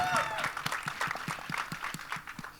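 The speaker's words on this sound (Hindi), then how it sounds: "सनी बाजी के लिए एक बार जोरदार ताली होनी चाहिए" Loud applause from an audience at a film teaser launch event with Sunny Deol, dense clapping with some rhythmic beats and crowd noise throughout.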